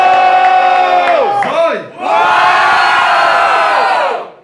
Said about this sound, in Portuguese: Muito barulho e mão pra cima pra quem gostou das rimas do John.